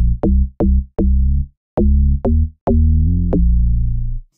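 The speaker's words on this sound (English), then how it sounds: "But the one we're going to be using right now is the Dark Attack bass." Dark Attack bass preset from the Logic Pro X EFM1 FM synth, played as a run of short punchy low notes with sharp attacks, then a longer sustained note, loud and alone with no talking.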